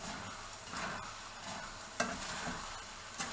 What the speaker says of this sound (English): I think you can hear it sizzling.